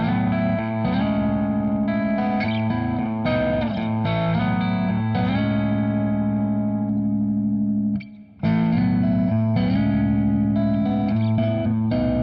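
An Aria Pro II 212-MK2 Bowery electric guitar plays chords and riffs through its pickups, strummed loud and sustained with a brief gap near the end, with no voices.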